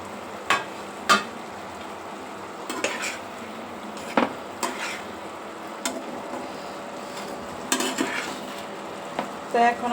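Potatoes and drumsticks frying together in spiced oil in a pan, with a steady low sizzle, intermittent clinks and scrapes of a utensil stirring against the pot, and no talking.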